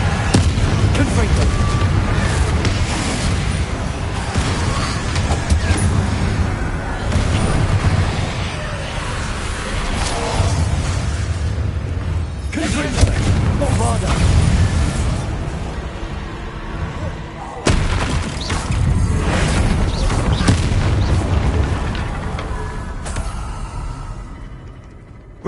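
Repeated Confringo blasting-spell explosions in the Hogwarts Legacy game, booming bursts amid loud continuous battle noise and music, with voices shouting over the action.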